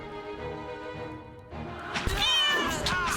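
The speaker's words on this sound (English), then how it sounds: "The cutest cat meows a meow." A cat meows in the role-playing video game Pillars of Eternity, a drawn-out wavering meow rising over soft background game music and ambience, fairly close and clear with no talking.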